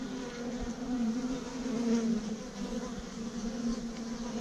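Honey bees buzz steadily in a bee yard, a dense close drone holding a wavering pitch throughout with no talk.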